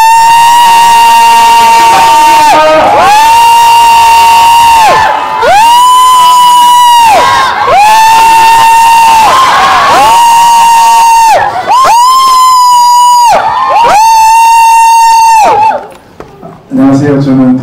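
A packed cinema crowd at a Lotte Cinema Yeongdeungpo stage greeting for the film The Moon cheers with loud, sustained high-pitched shrieks in repeated surging waves, broken by brief dips and ending abruptly.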